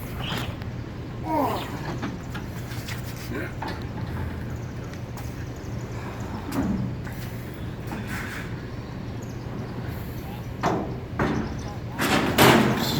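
A vintage Dover freight elevator's doors open in a university tower, giving heavy slams and thuds with clanking knocks amid ongoing speech and a low steady mechanical hum.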